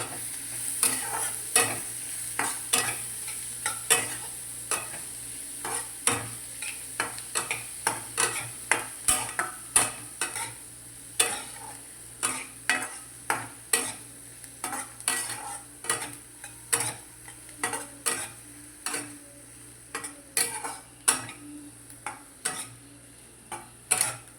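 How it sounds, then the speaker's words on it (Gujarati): Chopped onion is stirred and fried in a pan for paneer bhurji: a spoon scrapes and clicks against the pan in a steady rhythm over a soft, continuous sizzle, close by and without speech. "હવે આપણે ડુંગળી નાખીએ હવે એના હલાવીશું"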